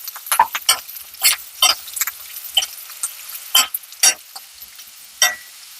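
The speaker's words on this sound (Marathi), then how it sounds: "ती पण तिच्यासोबत फ्राय करून घेऊ." Capsicum frying in a pan for dhaba-style paneer tawa masala, with sharp bursts of sizzle and stirring scrapes that come in irregular spurts over a quiet background.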